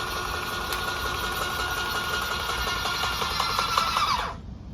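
Titan airless paint sprayer pump building pressure, a steady close mechanical whir with rapid rhythmic pulsing that runs evenly and then abruptly cuts off near the end.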